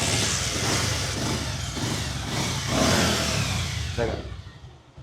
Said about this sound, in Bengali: বাহ বিট গোনা যাইতেছে একদম ইঞ্জিনের বিট গোনা যাইতেছে